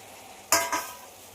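Bitter gourd pieces being stirred and frying in a pan for a curry, a brief scraping stir with sizzle in two quick strokes, moderately close, no talking.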